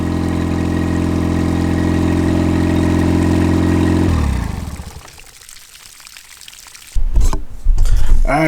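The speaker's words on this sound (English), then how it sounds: "You gotta make sure your engine's working before we start this." A Mercury outboard engine idles with a steady, loud drone for about four seconds, then winds down and stops, followed by quiet and a few close clattering handling noises.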